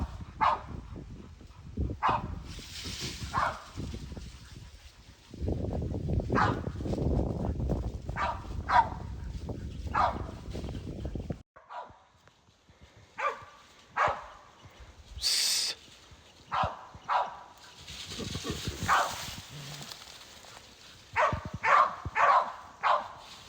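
Dogs bark repeatedly at a wild boar in sharp, scattered bursts outdoors, some distant, with a stretch of loud rustling noise midway.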